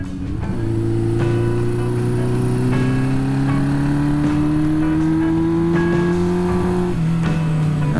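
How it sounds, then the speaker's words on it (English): A Yamaha XJ550 scrambler motorcycle engine drones loudly and steadily, its pitch slowly climbing as it pulls through the rev range, continuous and close throughout with wind rush behind it. "just listen to that engine"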